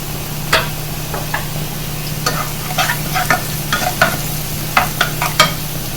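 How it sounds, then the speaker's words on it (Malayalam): Chopped onion sautéing in a pan for gobi manchurian gravy, a steady close sizzle of frying with a spoon scraping and tapping the pan at irregular intervals; no talk. "ഉള്ളി 1 മിനിറ്റ് വഴറ്റിയെടുത്താൽ മതി"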